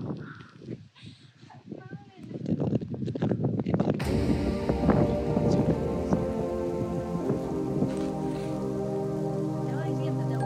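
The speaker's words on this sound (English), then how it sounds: "today is a rainy, cold, nasty day" Steady rain falls among the carved rock tombs of Petra, Jordan, on a cold day, hissing and pattering close by. Scattered low knocks and sounds come first, then the rain thickens into a dense, continuous wash.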